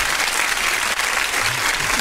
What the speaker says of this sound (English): We got to give her a hand clap